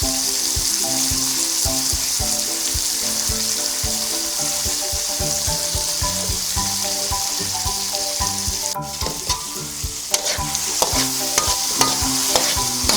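Saluyot leaves stirred with soy sauce in a hot pan, a loud, steady sizzle with continuous scraping and stirring close by and a few sharper knocks toward the end, with no voices.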